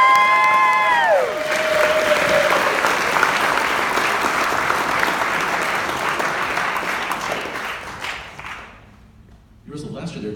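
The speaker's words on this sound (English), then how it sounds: "Let's give them a big round of applause." A school assembly crowd breaks into sustained applause and cheering, loud and dense for several seconds before fading, then flaring up again briefly near the end.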